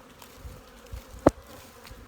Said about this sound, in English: I haven't seen my bees fly all October, practically all October, and it's just like a spring flight